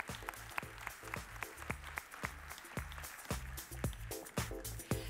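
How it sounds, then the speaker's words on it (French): An audience applauds an award winner at an engineering prize ceremony, with irregular sharp claps spread through a hall, fairly faint and distant, a steady patter without cheering. "On l'applaudit."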